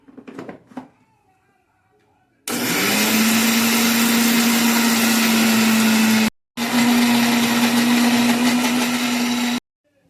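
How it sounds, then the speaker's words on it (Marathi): Electric mixer grinder grinding soaked dosa batter, a loud steady whirring drone that starts abruptly after a few soft clicks, stops for a brief moment, then runs again before cutting off. "आपण आता मिक्सरच्या भांड्यात घेऊन हे दळून काढूया"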